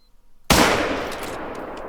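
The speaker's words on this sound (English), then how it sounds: "So you might actually want to put a follow-up shot onto him." A single loud rifle shot fired at a whitetail deer in the hunting game theHunter: Call of the Wild, a sharp blast with a long rolling echo tail that fades slowly.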